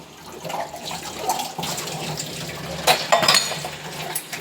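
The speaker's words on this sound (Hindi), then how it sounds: "मैं जल्दी से पहले इन्हें दो चाकर यहाँ रख देती हूँ बर्तनों को।" Dishes and utensils being set down in a home kitchen, with clinks and clatters of metal vessels amid running water sounds, close by and moderately loud, no talking.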